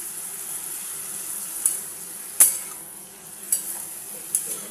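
Fried potatoes being stirred into a simmering fig curry in a pan, giving a low steady sizzle with a few sharper scrapes and clinks of the spoon against the pan.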